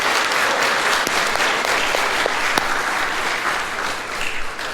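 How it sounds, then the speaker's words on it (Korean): A church congregation applauding a family at a Sunday service, loud sustained clapping from many hands filling the sanctuary, with a few sharper individual claps standing out and no speech. "우리 가족에게 한번 큰 박수 한번 할까요?"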